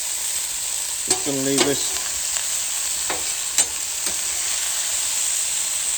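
Food sizzles steadily on a Callow four-burner plancha, a constant close frying hiss, with someone speaking briefly over it near the start.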